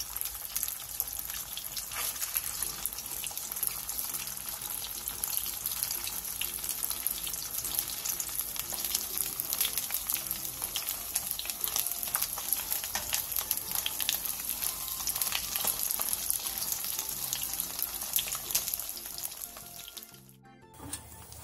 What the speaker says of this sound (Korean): 팬에 기름을 넉넉하게 두른 뒤 두부를 넣고 중약불에서 튀기듯이 부쳐주세요.